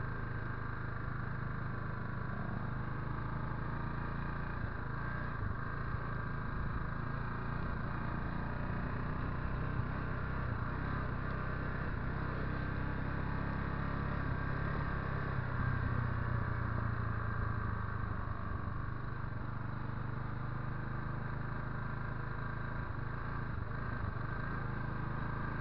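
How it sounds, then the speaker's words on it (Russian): A car engine drones and strains steadily while its wheels spin on snow in an open field, a continuous muffled rumble with slight rises in revs, with no voices. "Вот, он просто буксует."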